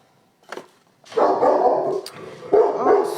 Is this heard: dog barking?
yes